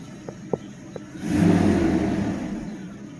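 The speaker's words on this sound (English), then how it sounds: "All 12 cylinders are running. Just want to see the RPMs." A 1997 Mercedes S600 V12 gives a brief rev that swells and slowly fades, close by, after a few faint clicks.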